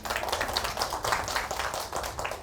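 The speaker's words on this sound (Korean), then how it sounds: "박수 좀 쳐주세요" An audience at a marine-life lecture in Seoul claps steadily, a dense, close wash of many hands at an even level throughout.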